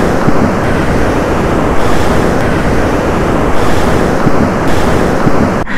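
Ocean surf at Kothapatnam beach in Prakasam district rolls in as a steady, loud wash of breaking waves, with wind buffeting the microphone throughout and no voices.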